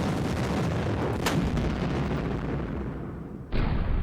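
Heavy artillery fire in the wargame Panzer Campaigns, a loud sustained rumbling barrage with a sharp crack partway through and a fresh booming blast near the end.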